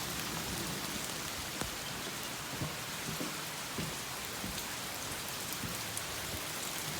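Heavy rain pours steadily outdoors, a dense continuous hiss with scattered louder drops striking nearby surfaces, no voices.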